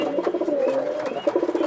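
Panki pigeons coo steadily in a cage at a farm, a close, continuous run of low throaty burbling pulses with no talk over it.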